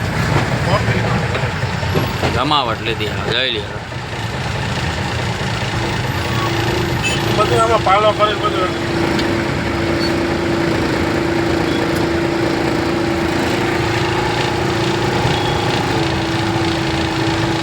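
Vehicle engines idle in a heavy traffic jam at Gondal, a steady low rumble persisting throughout with a horn-like tone in places, while people talk over it.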